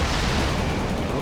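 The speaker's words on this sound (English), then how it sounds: "Rock Barrage, pretty damn strong" Dense, continuous explosive rumble from Tinker's Rocket Barrage in a Dota 2 match, a steady wash of overlapping small blasts held at even loudness with no clear gaps.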